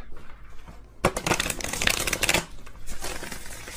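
A deck of spirit cards is shuffled close up in a quick burst of riffling and flicking that lasts a couple of seconds, then settles.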